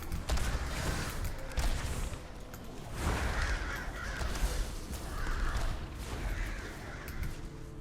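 Several crows caw and croak in bursts over a busy, noisy game mix, the Murder of Crows ability in World of Warcraft: Battle for Azeroth, repeating every second or two at moderate loudness.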